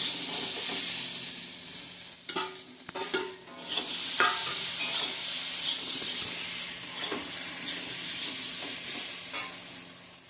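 Soybean chunks fry and sizzle in a pan under a steady hiss, with several sharp scrapes and clatters of a spatula stirring them at intervals; no one speaks.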